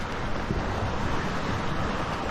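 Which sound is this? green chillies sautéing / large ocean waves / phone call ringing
large ocean waves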